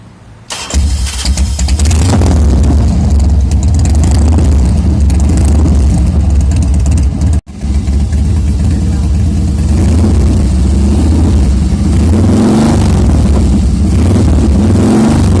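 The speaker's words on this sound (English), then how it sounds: "The authentic sound of Harley because it's carburetor." An old carburetted Harley-Davidson V-twin starting up and then idling loudly up close with a deep, lumpy rumble, broken by a brief cut and a couple of throttle blips later on.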